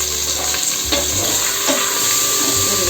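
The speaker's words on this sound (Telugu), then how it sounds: "అల్లం వెల్లుల్లి పేస్ట్ కూడా మొత్తం పచ్చి వాసన పోయే వరకు బాగా వేగిపోవాలన్నమాట." Ginger garlic paste frying in a pan for chicken pulao, with a close, loud continuous sizzle and a few stirring scrapes, no voices.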